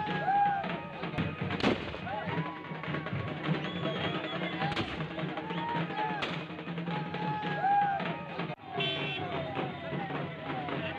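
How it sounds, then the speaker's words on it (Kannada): Firecrackers go off in the air at a BJP political rally, a few sharp, loud bangs spaced seconds apart over a busy background of crowd and vehicle noise, with some talking. "ಗಾಳಿಯಲ್ಲಿ ಹಾರಿಸಿದ್ದು ಗುಂಡಲ್ಲ, ಪಟಾಕಿ ಮದ್ದು, ಅದು ಬರೀ ಸೌಂಡ್ ಮಾಡುತ್ತೆ"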